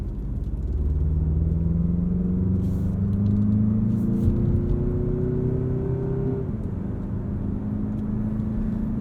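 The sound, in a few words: 2023 Mazda CX-50 engine revving while towing a trailer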